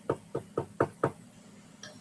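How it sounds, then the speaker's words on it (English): Knuckles rap on wood in a quick, evenly spaced series of about five sharp, close knocks, followed by a fainter clatter, with no voices. "I knocked 3 times. It's like knocking on wood."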